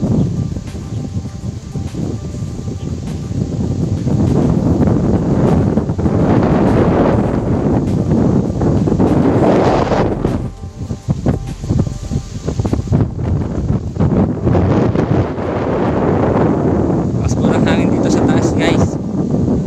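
Heavy wind buffets the microphone in a steady, loud roar with gusts rising and falling on a mountaintop, while a person speaks over it.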